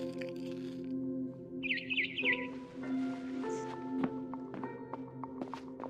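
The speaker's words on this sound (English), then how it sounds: "Then I heard chirping outside my window." Barn swallow chirping in the video game What Remains of Edith Finch: brief high chirps midway through, over a steady game music and ambience bed, with a few soft thuds.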